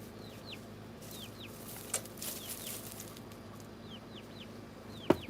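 Backyard chickens cluck softly near a coop, repeated short calls at a moderate distance over low steady background hum, with a sharp knock near the end.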